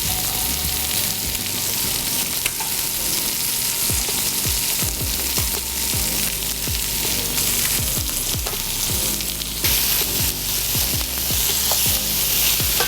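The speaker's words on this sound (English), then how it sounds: "we're going to cook it more on the skin side down before we flip them" Chicken pieces fry skin side down in a pan, giving a loud, continuous crackling sizzle with scattered sharp pops and spatters throughout.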